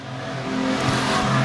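Street stock race cars roar down the back straight at a Manjimup speedway heat, engines droning loud and steady with rising revs, a dense close pack of motors and no voices.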